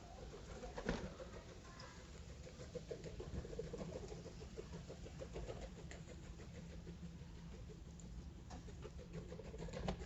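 Racing pigeons at feeding time in a loft, a busy mix of soft coos, fluttering and scratching with occasional sharp taps, fairly faint but continuous, with a low mechanical hum underneath and no talking.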